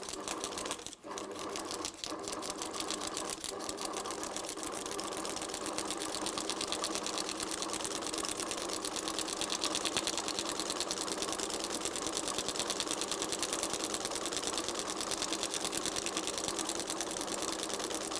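A sewing machine stitches a woven straw hat, starting from the crown, with a continuous fast mechanical clatter that holds steady and close for the whole stretch.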